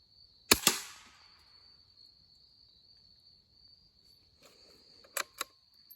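Suppressed subsonic .22 LR rifle shots striking a plexiglass sheet backed by metal: one sharp crack at the start, then two quieter snaps near the end, over a steady high insect-like whine.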